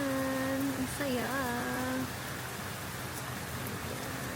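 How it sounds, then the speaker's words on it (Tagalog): Steady rain hisses throughout, with a voice speaking briefly near the start before the downpour continues alone. "Sky, it's raining"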